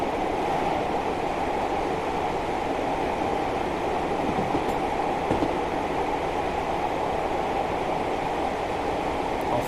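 A continuous, dull rumbling roll of B4 bogie wheels on track in Train Simulator 2020, steady and unchanging, with occasional faint clicks over the joints.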